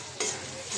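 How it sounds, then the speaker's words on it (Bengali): Spice masala with coriander powder and salt fries in a pan for a fish curry, a brief hiss of sizzling with one or two quick stirring scrapes, near and moderately quiet. "মশলাটা কষাই নিব এখন ভালো করে।"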